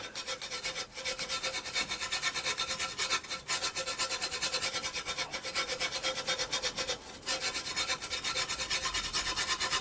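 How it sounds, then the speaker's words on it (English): Steady close scrubbing of an old Mac Classic computer, a continuous rasping brush-on-surface rub with brief pauses at a few points and no talk. "So I better carry on scrubbing."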